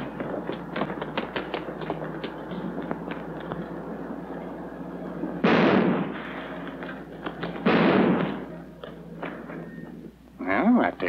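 Two loud gunshot bangs in an old film scene, several seconds apart, over a steady hum, with people talking and a third sharp burst near the end.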